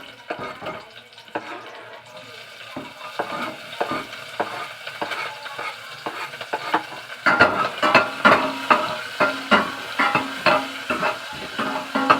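Garlic and ginger sizzle in hot oil for squid adobo, with steady frying and repeated stirring scrapes that grow louder and more rhythmic toward the end; no talking.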